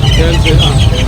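Several fancy-breed chickens cluck close by at a market, overlapping and loud, with a voice talking amid the birds.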